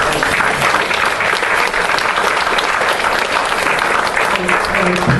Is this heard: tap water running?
no